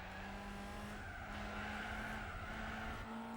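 A V16 supercar in Gran Turismo 4 drones with a steady engine note while tires squeal under hard braking, continuous and fairly loud, with the pitch shifting slightly as it slows and then picks up.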